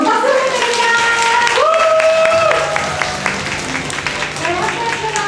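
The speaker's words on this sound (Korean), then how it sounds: "여러분 박수 부탁드립니다" Applause from an audience at an esports team send-off event fills the space under a loud voice and background music, the clapping dense and steady throughout.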